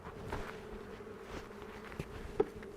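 Honey bees buzz at a queenless hive in a soft, steady hum with a clear drone tone. A few brief bees pass close by, the nearest one near the end.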